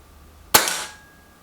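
Reximex air rifle fires a single sharp, close shot that cracks suddenly out of near silence and fades quickly.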